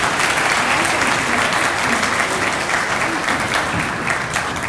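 Audience at an honor society induction ceremony breaking into loud, sustained applause, dense clapping filling the room evenly throughout.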